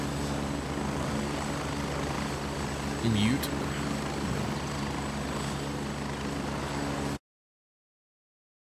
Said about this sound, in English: Helicopter's super loud.